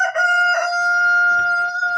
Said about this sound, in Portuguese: Eu vou ter que colocar esse galo na panela para ver se ele para de aborrecer.